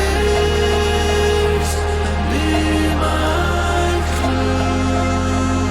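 Dense electronic song build-up with stacked vocal choir layers, bass line, rhythmic elements and sustained chords, loud and continuous with a shift in the low end near the end.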